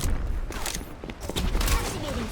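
Gunfire in the video game Overwatch, a rapid run of sharp shots and impacts layered with game effects, with players talking over the shooting.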